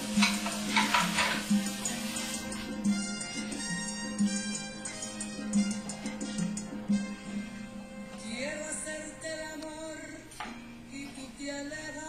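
Ground beef browns in a frying pan with a steady low sizzle under repeated scraping and stirring strokes, near and continuous for the whole stretch, with a brief louder clatter of utensil on pan.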